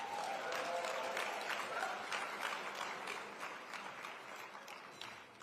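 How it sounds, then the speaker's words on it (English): Audience applause after a Martin Luther King Jr. address in Dallas, Texas, a steady broad clapping that holds loud for a few seconds, then slowly thins and fades toward the end. "Let's give her another round of applause."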